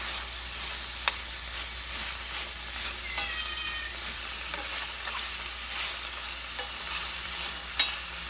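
Pork, pepper and sliced carrot sautéing in a pan, with a steady close sizzle broken by occasional sharp clinks and scrapes of stirring, and no talk over it.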